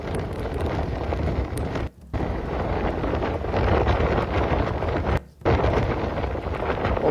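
Super typhoon wind in Guam roars and buffets the microphone continuously, loud and close, with a high whistling edge and two brief lulls where it drops away.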